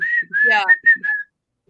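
A short whistled melody of a few sliding, clear notes, the whistling theme from Kill Bill, close and alone, ending in silence.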